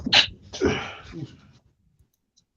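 One loud close sneeze, a sharp intake followed by a forceful burst, then fading into near silence; a voice is heard briefly at the start.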